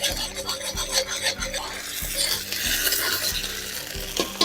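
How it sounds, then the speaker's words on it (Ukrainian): Tomato paste fries against the side of a pan for a vegetable and zucchini ragout cooked on pork fat, giving a close, steady sizzle with repeated rasping scrapes of stirring. "Отак на борт томатну пасту і отак обсмажимо."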